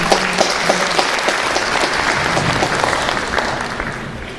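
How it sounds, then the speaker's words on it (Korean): Dense, sustained applause from a large audience at a public-institution recruitment briefing, a full steady patter of many hands clapping throughout as a presenter is welcomed. "여러분 큰 박수로 맞아주시기 바랍니다"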